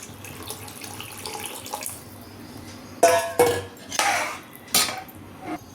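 Tamarind water splashes into a pot of sea fish curry in a few short, loud pours, with clinks of a metal vessel between them over a quiet kitchen background.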